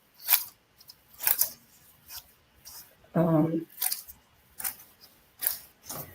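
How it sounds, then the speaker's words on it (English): A paper trimmer slices through cardstock in a few quick, close, crisp strokes, separated by short pauses, with a brief voiced moment midway and no clear talk over the cuts. "We will trim this with our trimmer"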